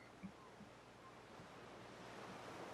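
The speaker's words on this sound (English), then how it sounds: "what fills your ears is the sound of waves against the shore" Waves wash against a shore as a faint, steady rushing surf with a soft wind-like hiss and a couple of low thumps near the start.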